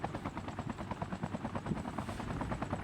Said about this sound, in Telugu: నేను అదే హెలికాప్టర్ తీసుకొని వస్తున్నా